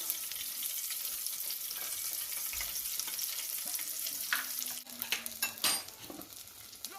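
Salted fish, kobi, frying in a pan, with a steady, bright sizzle throughout and scattered scraping and clinking of a utensil toward the end, no talking.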